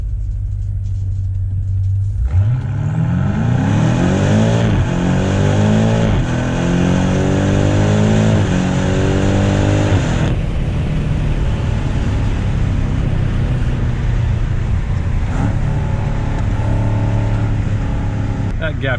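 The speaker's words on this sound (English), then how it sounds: "This has got the 8-speed BMW M Steptronic transmission, torque converter, not a dual clutch." A 2019 BMW M5 F90 Competition with an eight-speed torque-converter automatic accelerates hard, the engine note climbing through several quick upshifts before settling into a loud steady rumble inside the cabin, with someone talking throughout.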